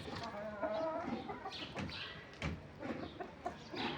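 A rooster and chickens cluck in a low, steady murmur with a few sharper calls mixed in, faint and somewhat distant amid background noise.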